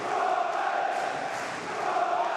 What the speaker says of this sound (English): Just listen to the Portsmouth crowd already